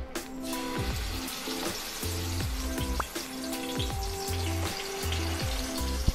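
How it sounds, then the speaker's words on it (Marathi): Masala-marinated chicken pieces frying in hot oil in a pan for a chicken thali: a continuous bright sizzle and crackle, with soft rhythmic tones running underneath. "पॅनमध्ये मी तेल गरम करून घेतलेलं आहे, त्यामध्ये हे लावून घेऊया।"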